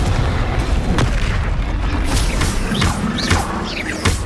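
Repeated Confringo fire spells explode in Hogwarts Legacy on PS5. Loud booming blasts go off every second or so over a constant dense rumble of combat noise, with no voices.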